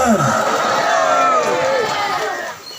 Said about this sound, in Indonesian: Dengan segala hormat saya minta tepuk tangan yang meriah untuk para panitia.